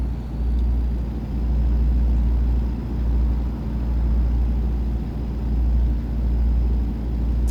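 Deep, steady diesel drone of a big Kenworth truck hauling triple trailers through Colorado national forests in American Truck Simulator, a continuous loud low rumble with gentle slow swells and no voices.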